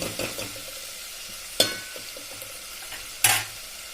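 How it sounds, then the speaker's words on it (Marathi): Onion masala sautéing in oil for a village-style kat amti, a soft steady sizzle with occasional stirring scrapes and two sharper clinks of a spoon against the pan. "आता हे छान तेल सुटेपर्यंत आपण परतून घेऊया."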